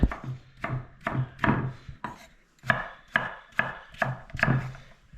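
A knife chopping food on a cutting board for Italian sausage and potatoes, steady sharp thuds roughly twice a second with a brief pause partway through, close and clear without talking.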